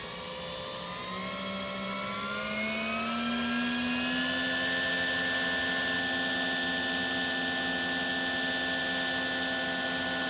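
Hughes 500 model helicopter flying with its lights on: a loud, continuous whine of the rotor and motor that rises in pitch as it spools up, then holds steady and close, with no talking.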